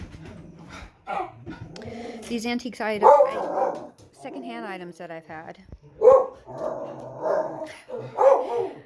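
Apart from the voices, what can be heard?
neighbor's dog barking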